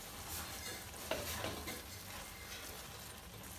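Grated carrot halwa stirred with desi ghee in a pan makes a faint, continuous frying hiss with soft scraping from a spoon. There are no voices.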